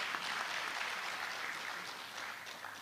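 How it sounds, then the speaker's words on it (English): An audience at a medical college induction ceremony in Ghana claps for a professor, a dense and sustained wash of applause that eases slightly toward the end. "Clap for our prof."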